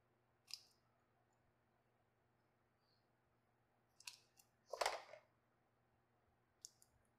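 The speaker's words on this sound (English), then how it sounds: "I find scissors is a good way to do this." Several crisp scissor snips crunching through the hard shell of cooked lobster legs, spaced irregularly with quiet pauses between, the loudest a quick double cut near the end.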